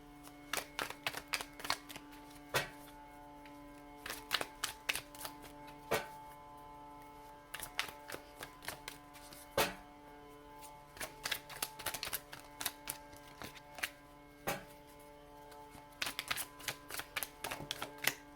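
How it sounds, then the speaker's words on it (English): Quiet, irregular bursts of tarot cards being shuffled: crisp flicks and taps in clusters separated by brief pauses, with no talking. "get this one last good shuffle"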